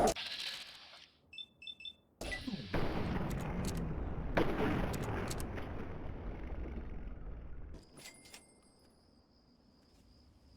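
Gunfire in Fallout 3: a few sharp bursts, then a long stretch of dense, loud noisy blasts and rumbling combat that cuts off abruptly, leaving faint high tones and ambience.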